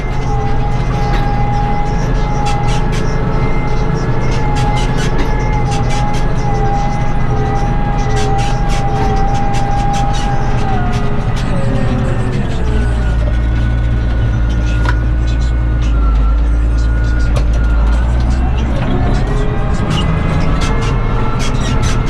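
A tractor works across a hilly field with a loud, continuous engine drone. The pitch shifts as it climbs and descends, with rattling and clatter over it and a person talking in the cab.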